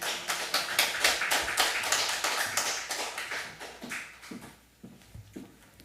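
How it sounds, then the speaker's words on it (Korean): Congregation applauding at a Sunday joint church service, a dense burst of many hands clapping that fills the room and then thins out into scattered claps toward the end. "큰 박수로 모시겠습니다"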